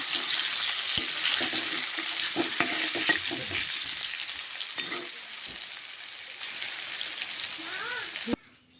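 Potatoes fry in hot oil in a pan with a dense, continuous crackling sizzle and scattered stirring knocks, then the sound cuts off abruptly near the end.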